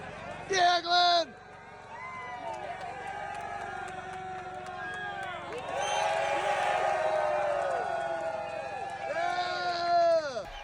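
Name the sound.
crowd cheering at rally podium, phone video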